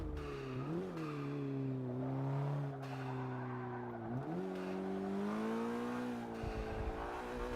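A hatchback engine in the Forza Motorsport 6 racing game drones loudly through corners, its pitch sliding down and up with shifts and throttle changes, with tire squeal underneath and no talk.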